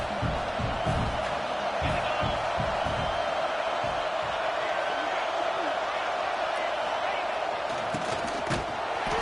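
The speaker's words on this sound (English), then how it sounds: "This crowd knows when to bring it." A college football stadium crowd roars in a steady, dense wall of cheering, with a commentator talking over it throughout.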